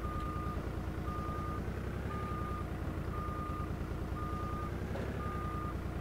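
A forklift in a video game sounds steady, evenly spaced reversing beeps over a continuous engine drone, six beeps in regular rhythm, with no talking.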